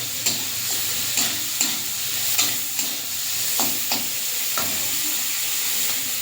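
Shrimp fry lightly in a pan in a village kitchen, a steady close sizzle punctuated by repeated spatula scrapes and taps at an irregular rhythm, with no speech.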